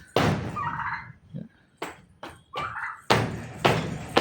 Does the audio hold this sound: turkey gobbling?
yes